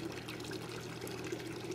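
Water drains from a 1934 Maytag wringer washing machine in a soft, steady pouring trickle. It is fairly faint and continuous, with no talking.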